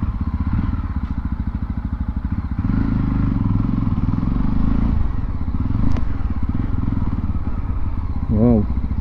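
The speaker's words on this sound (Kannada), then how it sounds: "Exhaust note ನೋಡ್ಬಿಡೋಣ." Yezdi Roadster motorcycle idling with a loud, close, steady thumping exhaust beat, briefly rising in a short rev near the end, with a faint clatter over the engine.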